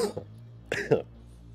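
Two short, harsh coughs in quick succession, fairly close and loud, followed by quiet background hum.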